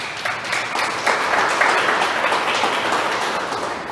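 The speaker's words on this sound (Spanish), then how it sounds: "Denle un aplauso a Jesús porque eso hizo." Church congregation applauding at a Spanish-language service, a sustained dense wash of clapping from many people in a room, steady and fairly loud throughout.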